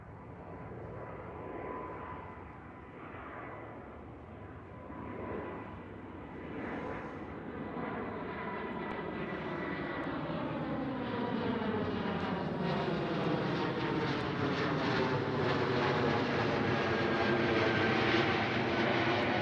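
A KLM Cityhopper Embraer E2 jet at Schiphol Airport roars steadily, its engine noise swelling and growing louder over about twenty seconds as it nears, with no voices.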